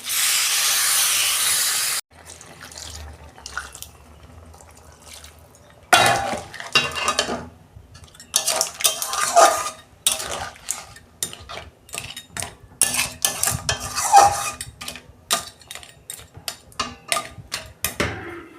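Water poured into frying sea crab masala sets off a loud steady hiss that breaks off, followed by irregular metallic scraping and stirring clatter in the pan with sizzling underneath.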